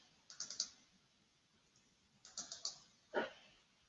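Computer keyboard keys tapped in two short bursts of quick clicks, with a sharper, louder click near the end, close and quiet in an otherwise still room.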